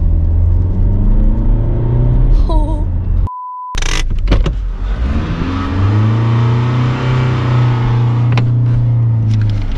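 A Mercedes-AMG E63 engine rumbles loudly while driving, with a rising rev and a few gear changes. A short electronic beep cuts in partway through, and the engine drone carries on steadily afterward.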